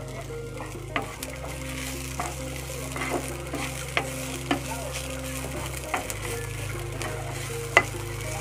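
Onion, chili and garlic fry steadily in a pan, a constant close sizzle with occasional light clicks and stirring knocks over a low steady hum, no talking.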